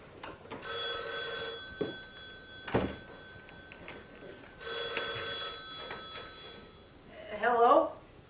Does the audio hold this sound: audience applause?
no